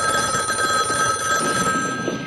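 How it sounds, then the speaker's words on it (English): A telephone rings loudly and steadily in the 1974 horror film Black Christmas, a bright continuous bell-like trill that fills the whole stretch without speech. "Your phone's ringing."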